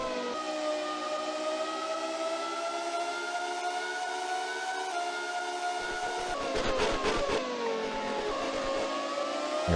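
A 1996 Formula 1 car's engine, in the F1 Racing Sim game, howls in a steady high-pitched drone, then a rival car's engine surges up close behind with rising and falling pitch sweeps near the end. No one speaks.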